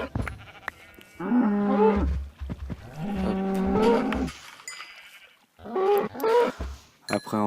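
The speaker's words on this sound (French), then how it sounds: "Là, il y a une vache." Minecraft cows moo in the game, with two long, drawn-out lows in a row followed by a third, shorter one after a pause. Each is clear and fairly loud, with no talking over them.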